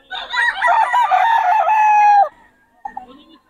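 Roosters crow loudly and repeatedly at close range among chickens, with a short burst of clucking after the crowing stops, at a poultry market in Bocaue.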